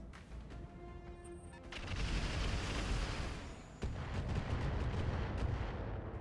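Inferno rounds fire in the mech combat game RogueTech as a heavy rumbling barrage, with a sharp boom opening a sustained roar and a second loud blast midway.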